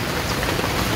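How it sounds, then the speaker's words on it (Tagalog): Heavy monsoon rain falls steadily on a garden, a dense, loud, unbroken hiss of downpour with no voices. "Pero yung habagat ang tindi"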